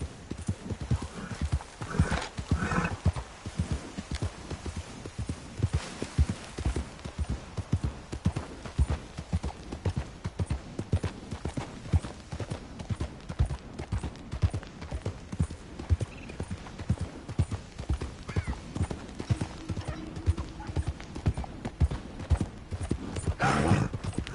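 Hooves of a galloping horse in Red Dead Redemption 2 drum in a steady, fast clip-clop rhythm throughout, close and loud, with brief whinnies and no talking.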